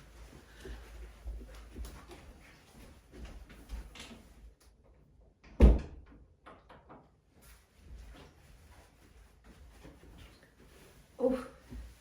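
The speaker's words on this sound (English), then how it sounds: "I think I can hear Aura at the door" A door creaks and thumps open in a quiet indoor room as a small Chihuahua-fox mix waits at it. A single sharp knock stands out mid-clip, with faint shuffling and ticking around it and another softer bump near the end.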